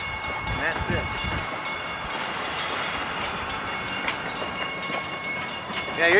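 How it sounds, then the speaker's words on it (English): A train with railroad cars rolls past at Monroe Center, Illinois, a steady loud rumble and rattle of wagons close by, with a brief faint horn-like tone and a louder surge near the end. "usually this train has a caboose"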